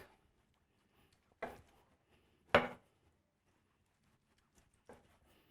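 A knife slices food on a cutting board in a historic kitchen setting, a few separate sharp thunks spaced out over quiet, with one stronger cut in the middle and a fainter one near the end.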